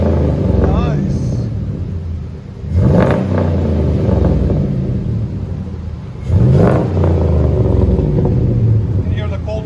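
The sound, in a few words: 2003 Chevy Silverado SS 6.0L V8 revving, Magnaflow exhaust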